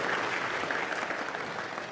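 Applause from a church audience for brother Eduardo, faint and brief, a soft wash of clapping at a distance.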